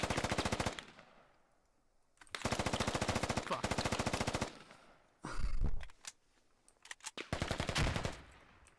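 Bursts of automatic gunfire in the military shooter game Squad: long rapid machine-gun strings broken by short pauses, then scattered single shots and a heavy low blast, loud and close.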